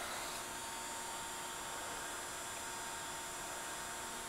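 A used 12 x 24 inch Mitek MT-1224ASD automatic three-axis surface grinder from 2001 runs with a steady, quiet, even mechanical hiss and hum, unchanging and free of voices.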